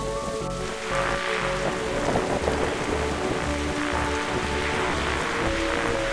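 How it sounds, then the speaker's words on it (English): Steady thunderstorm rain patters in the video game The Darkside Detective, a dense even wash of drops on a surface with no voices. "That storm looks like it's getting nastier."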